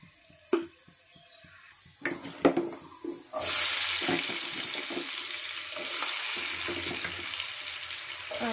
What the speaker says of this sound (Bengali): কড়াইতে তেল দিয়ে আমি আলুটা ভাজা করে নেব।